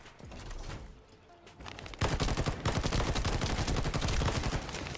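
Enemy gunfire and sniper shots in the shooter The First Descendant: a dense, continuous barrage of crackling shots that thickens sharply halfway through and then rattles on steadily, moderately loud and without speech.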